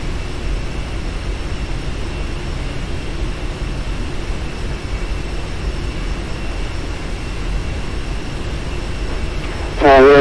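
A Lufthansa Boeing 747-8 taking off in the Prepar3D flight simulator game, a loud, steady roar of jet engines with a constant broadband rumble that swells slightly at the very end.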